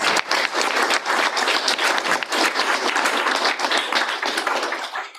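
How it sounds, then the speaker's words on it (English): An audience gives a town supervisor sustained applause at a community meeting, dense steady clapping filling the room for several seconds with no voices over it. "Let's give our town supervisor a round of applause."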